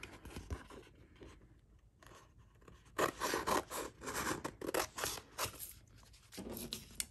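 Scissors cut around a vinyl stencil in quiet bursts of snipping and rubbing, the later cuts louder and more rapid, heard close with no talk.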